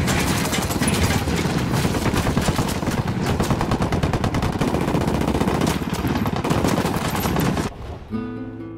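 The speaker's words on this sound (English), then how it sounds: "I'm opening fire." Sustained rapid gunfire from a firefight in the video game Ghost Recon Wildlands, loud and dense bursts continuing for most of the clip before cutting off abruptly near the end.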